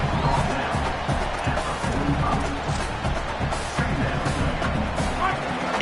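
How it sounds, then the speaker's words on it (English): A stadium crowd roars and cheers in the College Football 27 video game, a loud, dense, sustained wall of noise with a voice talking over it. "It's early, but this crowd is fired up. Listen to this noise here."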